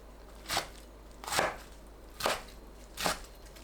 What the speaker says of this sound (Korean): 뭉친 부분 풀고 3cm 간격으로 썰어줍니다